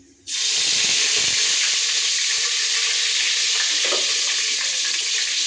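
Mint leaves dropped into hot ghee in a biryani pot burst into a loud, close, continuous sizzle and splutter that starts abruptly and stays intense, with occasional faint pops and clinks.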